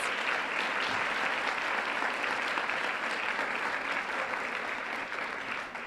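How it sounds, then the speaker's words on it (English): Sustained applause from an audience honoring local pageant contestants at a Miss America kickoff event in Texas, a dense, even roar of clapping that fades slightly near the end. "So I would just like everyone to please give a round of applause to the local contestants who worked so hard."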